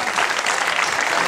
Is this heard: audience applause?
yes